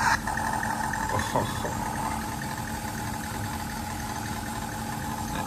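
A small electric motor in a 1/62 scale toy RC Tiger tank whirs steadily at close range after a few brief clicks, with a short spoken exclamation at the start.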